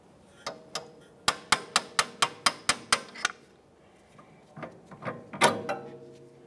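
A rapid series of about ten sharp metallic taps from a hammer and punch on a 1994-1997 Honda Accord front strut assembly, close and evenly spaced, followed by a few scattered clanks and a louder final strike.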